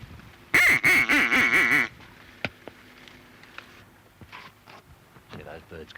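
Loud bursts of duck quacking ring out close by on open water near decoys, a quick run of about six harsh calls, followed by quieter clicks, rustles and faint talk.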